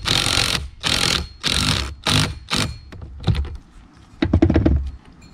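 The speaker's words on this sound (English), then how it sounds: "go ahead and take your impact or your ratchet." A ratchet or impact wrench tightens the nut on a boat console steering wheel fitted with a Teleflex rear-mount steering system, giving five close, rhythmic bursts followed by scattered clicks and a final short cluster, with no talk.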